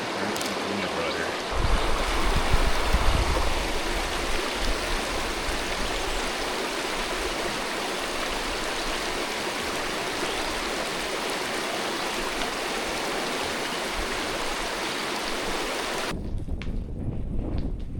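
The Greenbrier River in West Virginia flows beside a trail, giving a steady, close rushing wash that continues unbroken before ending suddenly near the close.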